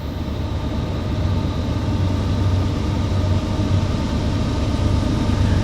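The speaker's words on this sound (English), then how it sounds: "This will be the last train for the night, I promise." A Norfolk Southern freight train passing at night: a loud, continuous rumble of rolling cars and a low engine drone, steady and close throughout without pause.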